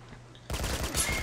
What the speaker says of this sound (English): Headshot with the Mini Uzi